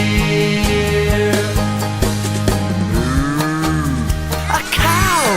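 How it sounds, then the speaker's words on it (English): A cow mooing in a children's farm-animal song, long low calls layered over a loud, steady musical backing with no talking. "A cow."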